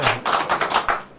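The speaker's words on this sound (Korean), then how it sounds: "박수 한번 보내주세요." Applause from a talk show audience during a magician's talk segment: a short burst of several sharp claps in a loose rhythm, fairly close and clear, with no voices.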